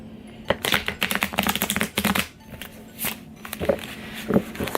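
Rapid riffling bursts of tarot cards being shuffled, close by, repeating in several quick runs with brief pauses between.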